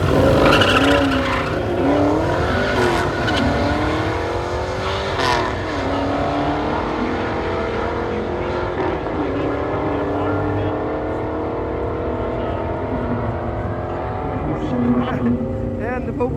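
Two drag cars launching side by side, a four-eyed Fox body Mustang on skinny tires and a Mopar on big fat tires, engines roaring loud and continuous with rising and falling revs and some tire squeal, under crowd noise and talk.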